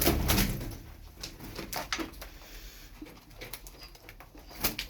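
Milk-white German Posta pigeons moving about nearby, with soft cooing, wing flutters and scattered scratchy bumps against a quiet background.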